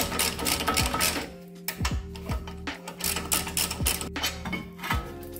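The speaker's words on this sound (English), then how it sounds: "Spin them out on your ratchet." A hand ratchet with a 21mm socket spins out brake caliper bolts on a VW T6, giving rapid close mechanical clicking in several quick bursts separated by short pauses.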